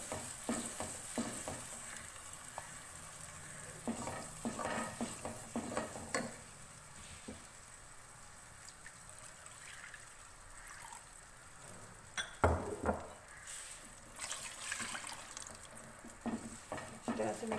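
A spoon stirs yogurt and gram flour batter into a pot for kari pakora, giving repeated scraping and clinking strokes over a steady sizzling background at close range.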